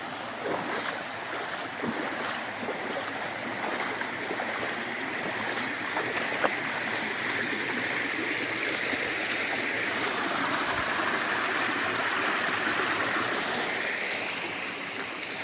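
Steady rushing water of Christie Brook fills the whole stretch, a continuous broadband roar like a stream spilling over a waterfall ledge, swelling slightly louder toward the end.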